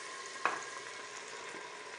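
Garlic, ginger, tomato and spice masala fries quietly in a pan, a soft steady sizzle broken by one brief utensil tap early on.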